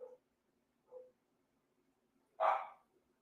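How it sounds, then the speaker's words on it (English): A dog named Gaston gives a few short barks: two quieter yips spaced about a second apart, then one louder, sharper bark after a pause, with no talking. "That's my dog Gaston."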